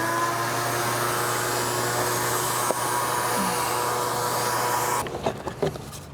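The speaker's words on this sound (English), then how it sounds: "Vacuum." A vacuum cleaner runs in a steady loud whine with a constant motor hum during a Ghostbusters proton pack build, then shuts off near the end, leaving faint clatter and handling noises.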